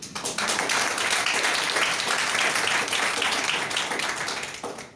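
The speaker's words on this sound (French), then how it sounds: "Il faut l'applaudir." Audience applause at a formal speech by a company director general in Ivory Coast, a dense sustained burst of many hands clapping that starts abruptly and fades near the end.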